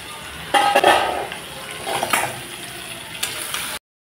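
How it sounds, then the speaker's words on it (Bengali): Spices, potato and cauliflower sautéing in a pan, a close sizzle and fry with bursts of stirring and metal utensils clinking against the pan, no voices, ending abruptly. "এখন আমি ভালো করে কষিয়ে নেব।"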